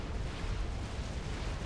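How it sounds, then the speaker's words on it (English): An ion explosion in a strategy video game gives a broad, muffled roar with a steady low rumble, heard alone and fairly faint throughout. "the ion explosion gonna erase any and all traces, not only from the enemy base"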